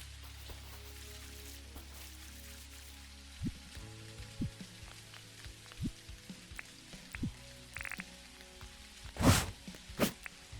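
Steady rain patters and hisses across a farm world in the video game Dinkum, a soft continuous wash with scattered thuds and a few louder knocks near the end.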